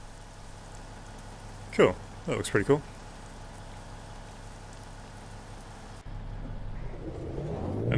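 Steady rain hiss in Euro Truck Simulator 2 runs throughout. Someone speaks briefly early on, and a louder, rumbling wash of rain swells toward the end.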